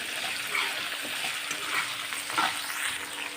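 Okra cooking with salt in a pan is stirred steadily, a close, continuous frying sizzle overlaid with swishing, scraping strokes of a spoon and no voices.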